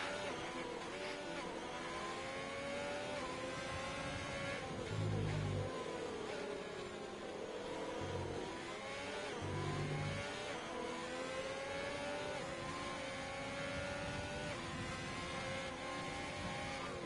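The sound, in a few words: F1 race car engine revving in racing video game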